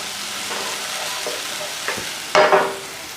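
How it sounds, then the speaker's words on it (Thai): Pounded chili and garlic stir-fry in hot oil under a low sizzle, with several utensil scrapes and a louder burst of clattering spatula strokes near the end, close by and without speech. "แล้วเราก็ทำการผัดพริกกระเทียมให้หอมนะครับ"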